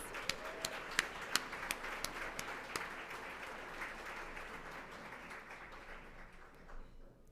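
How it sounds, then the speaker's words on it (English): An audience at a philanthropy awards event claps for sponsors, a few sharp individual claps at first, then a soft, sustained patter that gradually fades. "let's give them a round of applause"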